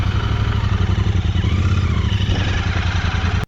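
A motorcycle ridden along a patched road gives a steady, close engine drone with a constant rumble and some clatter, ending abruptly.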